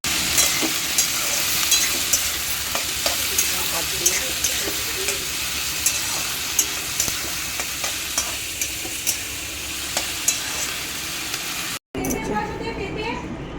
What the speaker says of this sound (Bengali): এখানে মা বসিয়েছে হচ্ছে গিয়ে শাক ভাজা।